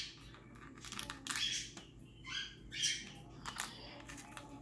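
Pet birds call in a home, with a few loud, harsh chirps and screeches in bursts, close by, over a faint steady background.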